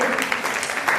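An audience at a Gujarati community gathering claps loudly for the guests on stage, a dense, continuous burst of applause.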